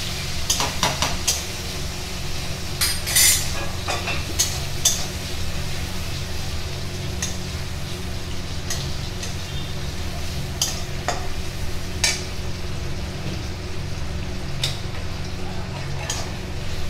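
Cumin, onions and tomatoes frying in oil in a pan, a steady close sizzle with scattered clinks and stirring scrapes throughout, no talking.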